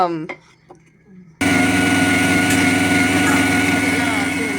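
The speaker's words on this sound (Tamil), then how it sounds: "அதை வந்து மிக்ஸி போட்டுக்கிறேன்" An electric mixer grinder switches on abruptly and runs loud and steady, grinding soaked rice into batter, after a moment of quiet with a few soft clicks and handling sounds.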